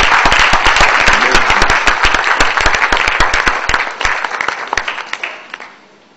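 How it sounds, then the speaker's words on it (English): An indoor audience at a talk bursts into loud, dense applause that holds for several seconds and then thins into scattered claps before fading out. "with a round of applause"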